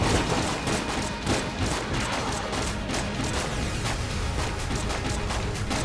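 Dense, rapid enemy gunfire from the roguelike shooter Enter the Gungeon, a loud nonstop barrage of overlapping shots and impacts striking the player, with no pauses over several seconds.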